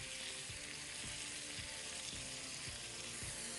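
Urad dal frying in oil for a tomato radish chutney: a faint, even hiss of oil bubbling steadily, with soft low thumps of stirring at regular intervals underneath, no talking.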